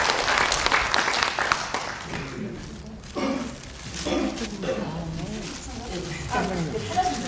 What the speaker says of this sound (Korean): 여러분 박수로 좀 맞이해 주시면 감사하겠습니다.